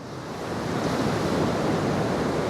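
Sea waves break on Blackpool/Fleetwood Marine Beach as a steady, broad wash of surf with wind noise against the microphone, continuous and fairly loud, with no voices.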